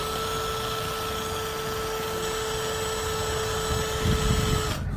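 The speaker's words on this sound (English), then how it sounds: "And even after drilling on it," Steady high-pitched whine of a small power drill running continuously on a screen protector, with a brief grinding scrape near the end.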